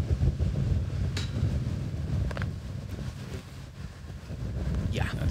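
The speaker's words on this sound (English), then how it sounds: "my goodness, that wind, it is severe" Strong wind buffets the microphone on a disc golf course at a professional tournament, a constant low rumbling roar with gusts, while a voice talks faintly over it.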